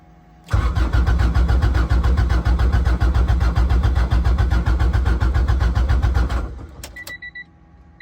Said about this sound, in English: I guess I'm gonna try and start it.